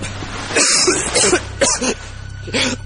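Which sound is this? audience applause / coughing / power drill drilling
coughing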